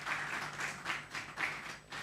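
Audience at a wealth summit conference applauding, a steady wash of many hands clapping at moderate level for a couple of seconds, with no voices over it.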